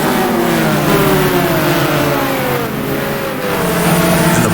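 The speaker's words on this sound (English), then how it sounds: "Can hear that Ferrari behind." A Ferrari racing car engine in the racing game GTR2 at the Spa circuit near Blanchimont screams loudly, its revving pitch climbing and dropping through gear changes, with no talk over it.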